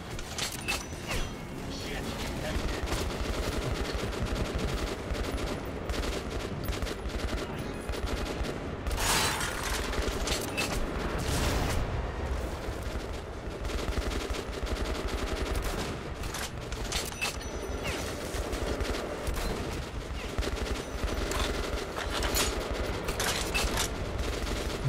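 Bolt-action rifle gunfire in the video game Metro: Last Light, sharp shots and mechanical bolt clacks amid a dense, constant roar of game noise and action, with occasional talking over it.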